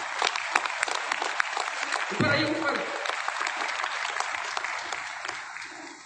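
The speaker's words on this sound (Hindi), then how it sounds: "आप इधर आइए स्टेज के ऊपर, इनके लिए तालियां बजा दो।" An audience claps steadily as a man is invited up onto the stage at a camp event, with a voice calling out briefly over the continuous applause.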